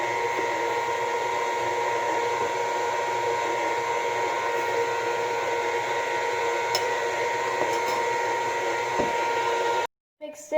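An electric mixer beating chocolate chip cookie dough gives a steady, even whir that runs without a break for about ten seconds and then stops sharply.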